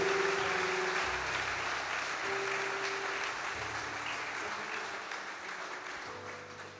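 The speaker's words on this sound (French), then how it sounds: "Acclame pour toi-même" A church congregation applauding, a dense, steady wash of clapping that fades slightly over several seconds, with faint voices and musical tones underneath.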